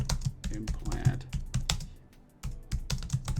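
Rapid clicking keystrokes on a computer keyboard as a note is typed into dental office software, close and crisp in uneven bursts with a brief pause midway.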